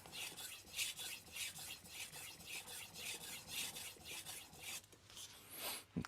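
A TOSA Aogami Super 165mm santoku knife being sharpened on a Naniwa Chocera Pro 1000 grit whetstone: close, rhythmic scraping strokes, roughly two per second, each a soft rasping swish, with a brief pause near the end.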